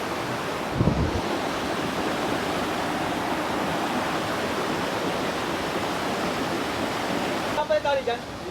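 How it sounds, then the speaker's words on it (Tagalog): Twin Falls waterfall, heard from above, sends a constant loud roar of rushing water that fills the whole stretch, with brief voices and a bump near the start and a short voice near the end. "Dito to sa Twin Falls pero dun sa ibabaw niya."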